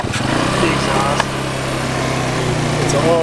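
An abandoned 1987 Yamaha Exciter 570 snowmobile engine runs loud and close with a buzzy, steady high-pitched two-stroke drone, and people talk over it.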